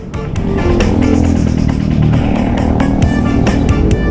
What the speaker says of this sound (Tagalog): Pinahagingan lang tayo ng bike, oh.